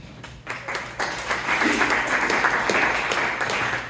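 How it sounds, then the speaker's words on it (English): A comedy festival crowd applauds in answer to a question from the stage, the clapping swelling quickly into a steady, fairly loud wash that holds for several seconds. "by show of applause, who here has kids?"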